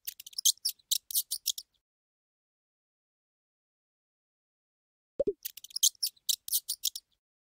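A mouse squeaks in two separate bursts of rapid, high-pitched chirps with silence between them, plus a brief low thump just before the second burst.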